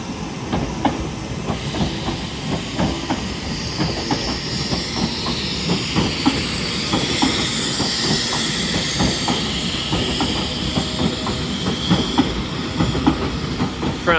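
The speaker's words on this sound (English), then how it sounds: "departing now is your delayed 12:30" A TransPennine Express Class 397 electric train pulls out of Carlisle station on the West Coast Main Line, heading from Glasgow Central to Manchester Airport. Steady rumble, hiss and rhythmic clickety-clack of wheels on rail joints carry on throughout, fairly close and loud.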